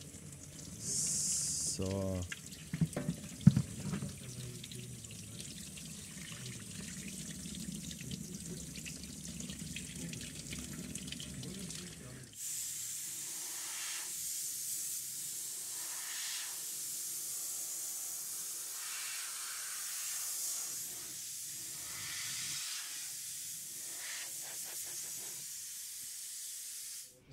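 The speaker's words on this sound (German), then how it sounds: "da spülen wir es jetzt auch nochmal ab" Running water rinses a surface during a lab scratch test of a car cleaning product, a steady hiss from a tap that continues throughout, with brief talk and a few clatters early on.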